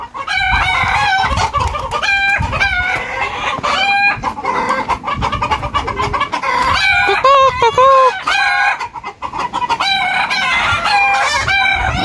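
Native chickens on a Saudi farm cluck busily and loudly up close, with roosters crowing repeatedly over the flock and the odd voice in the background, a dense continuous barnyard din.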